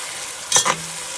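Chopped onions drop into hot oil for a tilapia fish curry, giving a brief double burst of sizzling and stirring against a faint background hiss.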